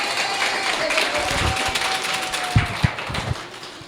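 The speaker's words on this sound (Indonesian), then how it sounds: "Boleh tepuk tangan." Audience applause at an evening talk, a moderate wash of clapping with a few sharper nearby claps and thumps toward the end, a sustained tone underneath.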